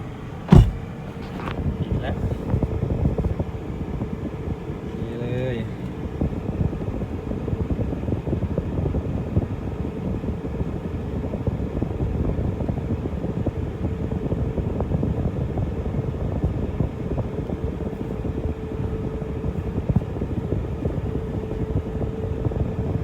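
A parked car's air conditioner runs with its blower going, heard from inside the cabin. A steady whirring fan hum with a faint constant tone continues throughout, after a few sharp clicks near the start.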